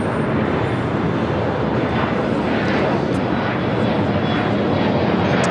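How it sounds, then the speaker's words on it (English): An Airbus A320 of Spirit Airlines bound for Dallas–Fort Worth roars steadily on departure from LAX, a loud, continuous broadband jet-engine rumble that holds constant throughout with no pauses. "Spirit Airlines heading to Dallas, Fort Worth, Texas, an A320."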